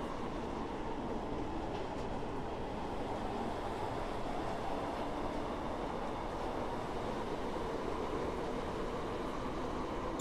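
A Stepford Connect Class 156/9 diesel unit runs along the line in a train-driving video game, with a constant low rumble and roar of the moving train under faint rhythmic clicks.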